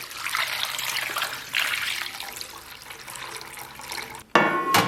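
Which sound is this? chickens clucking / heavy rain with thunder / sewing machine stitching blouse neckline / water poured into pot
water poured into pot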